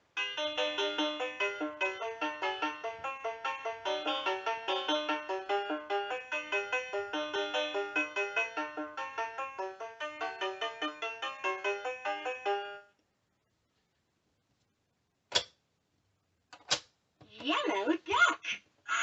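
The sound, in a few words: LeapFrog Fridge Farm toy playing banjo music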